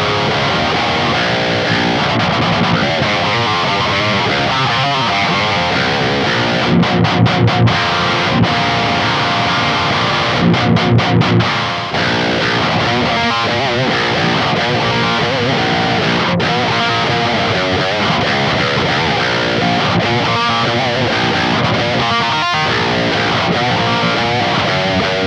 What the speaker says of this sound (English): here's a little bit more of an American style gain. It's an Archon from the Kalen McGregor STL Tones pack